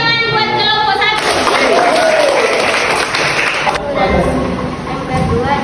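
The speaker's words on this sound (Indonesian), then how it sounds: "tepuk tangan buat kelompok 1" A room of people applauds a team called group 1 at a classroom activity, a short burst of steady clapping with a voice talking over it.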